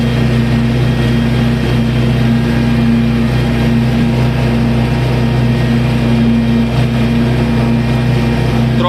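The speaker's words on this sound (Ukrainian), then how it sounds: "Трактор пробуксовує, буксує." A tractor pulling a PLN 3-35 plough through wet former potato field, its engine droning loud and steady at close range with a constant low hum as the wheels slip, no talking.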